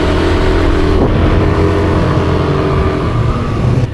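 A Yamaha Aerox V2 scooter engine hums steadily up close, with continuous wind rush throughout while riding.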